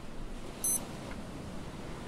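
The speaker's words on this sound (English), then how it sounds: "It beeped at you for eating potatoes." In the survival video game Stranded Deep, a single short, high electronic beep sounds as potatoes are eaten, brief and clear over a steady low background hiss.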